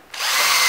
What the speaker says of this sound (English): I'm going to countersink and screw it in place.